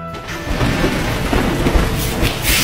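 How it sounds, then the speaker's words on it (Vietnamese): Steady heavy rain with a low rumble of thunder, a loud continuous hiss filling the whole stretch without speech. "Tuấn Tuấn, trời mưa rồi, mày mau về đi."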